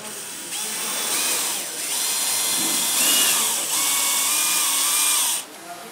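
A power drill whines loudly for several seconds, pitch shifting as it drives a screw into a wall, with brief pauses between pulls of the trigger.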